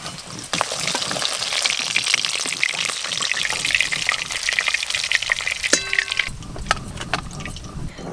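Pieces of fish fry in hot oil until deep red, giving a loud, continuous crackling sizzle close by that ends in a brief clatter.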